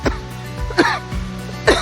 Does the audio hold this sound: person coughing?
yes